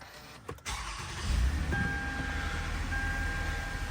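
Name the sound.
2014 Toyota Venza car engine starting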